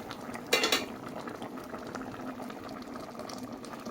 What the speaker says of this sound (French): de temps en temps, il faudra venir secouer la casserole comme on fait avec le kedjenou